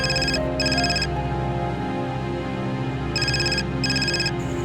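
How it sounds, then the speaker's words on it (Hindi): A phone rings with bright electronic ringtone bursts in pairs, a pause between them, over a low background hum, announcing an incoming call. "जावेद का फ़ोन है।"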